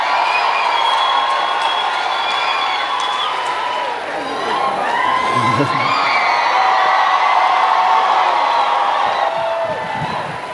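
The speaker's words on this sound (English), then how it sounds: "Give Jesus another big clap and a shout of praise." A church congregation claps and shouts praise, loud, full crowd cheering with high whoops and yells rising and falling over sustained applause.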